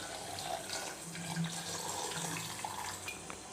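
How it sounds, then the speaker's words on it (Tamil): Water pours steadily onto jaggery in a container in a close, continuous stream, with no talking. "இப்போ தண்ணி இதில் மிக்ஸ் பண்ணிவிட்டு நல்லா கொதிக்க வைக்கலாம்"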